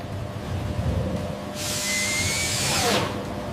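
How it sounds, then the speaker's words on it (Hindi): A sugar factory centrifuge spinning up to full speed, with a steady mechanical hum joined midway by a loud, bright whirring whine that holds and then drops off near the end. "अब ये मशीन अपनी पूरी रफ्तार से घूमेगी।"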